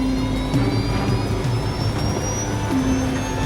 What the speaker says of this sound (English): The pilots try using engine power to turn the airplane towards Haneda.